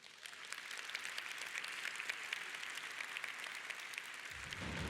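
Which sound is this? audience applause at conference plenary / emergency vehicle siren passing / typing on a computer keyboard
audience applause at conference plenary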